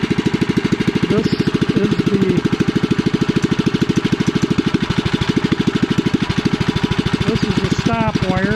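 A small single-cylinder engine on a home-built REO Trikeabout runs loud and steady without a muffler, a close, even rapid chugging that holds throughout with no talk.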